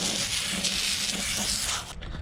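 Water spraying steadily onto an alloy wheel from a Ford Ranger, rinsing off strong paint remover; a continuous close hiss that cuts off abruptly near the end.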